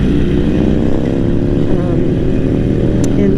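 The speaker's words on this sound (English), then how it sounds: "I just had to downshift because I was going too slow for that gear." A motorcycle engine drones loud and steady just after a downshift, a close, continuous rumble that fills the whole clip, with a voice talking over it.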